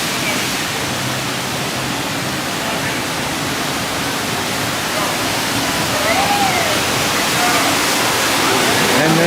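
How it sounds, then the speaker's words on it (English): Water runs down a cruise ship's water slide on the open deck of Royal Caribbean's Independence of the Seas, a constant loud rushing hiss with a voice talking briefly over it. "And there's the water slide."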